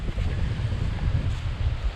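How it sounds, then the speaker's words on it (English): Steady, forceful wind on a hilltop in the Cheviots on a bright autumn day, buffeting the microphone with deep low rumbles and gusty surges throughout, no voices. "it is really windy"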